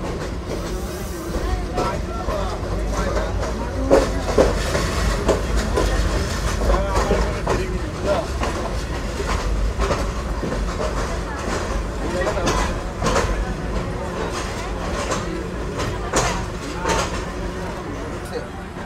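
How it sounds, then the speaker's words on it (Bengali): Mohanganj Express pulling out of Gouripur Junction, a steady rumble of rail cars and wheel clatter building as the train starts moving, heard from onboard with voices talking around. "আমাদের ট্রেন গৌরীপুর জংশনে তার নির্ধারিত যাত্রা বিরতি শেষ করে এখন আবারও চলতে শুরু করলো।"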